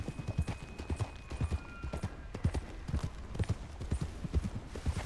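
Horse hooves clip-clopping at a walking pace while ridden in Red Dead Redemption 2, a steady, fairly quiet rhythmic patter that continues throughout.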